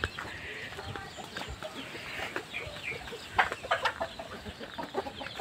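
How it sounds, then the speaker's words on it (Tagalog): Chickens being kept at a backyard pen cluck and murmur softly at a distance, scattered calls over a steady hiss of outdoor background noise. "dito ko muna nilalagay yung mga manok natin"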